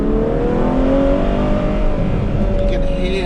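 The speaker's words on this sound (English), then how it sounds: "now of course you can hear the down changes" Ferrari 812 GTS engine with the top open, downshifting with loud, close exhaust whose pitch steps and rises across a few seconds of continuous roar.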